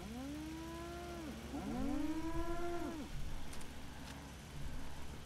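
A cow in the video game Fallout 4 lets out two long, drawn-out moos back to back, fairly close and clear over low game ambience.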